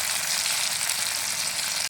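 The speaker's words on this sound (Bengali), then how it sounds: "পেঁয়াজটা ভেজে নেব।" Onions and tomato frying in oil for a village prawn curry give off a continuous, even sizzle, close and unbroken, with no voices.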